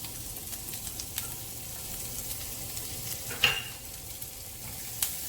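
Garlic frying in a pan of cooking oil, a steady soft sizzle running throughout with a few brief stirring clinks and one louder scrape near the end.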